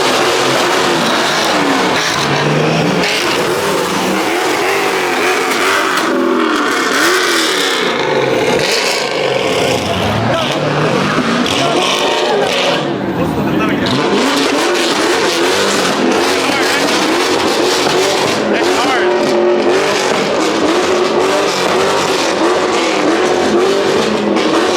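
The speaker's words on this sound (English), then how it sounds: "That's a diesel. It's the 235D." A diesel car, the 235D, revving among other engines at a busy Bay Area car meet, loud and sustained throughout with crowd chatter and voices mixed in.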